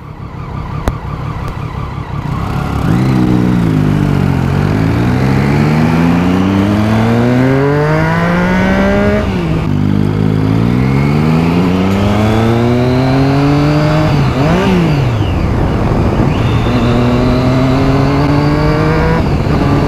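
Loud Honda Hornet motorcycle with a quickshifter pulling hard through the gears, the engine note climbing in rising sweeps and dropping sharply at each quick upshift, repeated several times, close and dominant with no talk.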